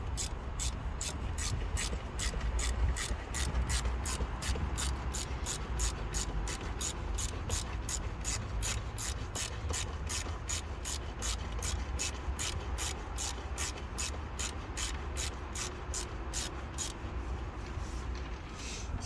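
Ratchet clicking fast and evenly while tightening rocker cover bolts on a MINI R50 engine, a long continuous run of close, crisp pawl ticks over a steady background hiss, without speech.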